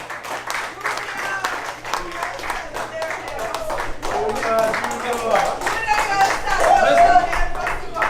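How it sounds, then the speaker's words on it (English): Audience applause at a Christmas party awards ceremony: dense, steady clapping from a crowd that swells louder toward the end, with some voices mixed in. "So give her another round of applause."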